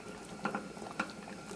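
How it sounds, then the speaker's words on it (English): Hot water bubbles in a deep pot with a Samsung Galaxy S5 phone submerged in it, a soft continuous simmer with a few sharper pops and bursts breaking the surface. "Just boiling some Galaxy S5 for breakfast."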